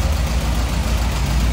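The engine of a Murat 124 car under restoration is turned over with its starter. It gives a loud, close, continuous low mechanical rumble with steady pulsing throughout, and no one speaks.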